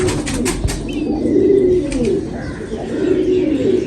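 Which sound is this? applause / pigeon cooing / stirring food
pigeon cooing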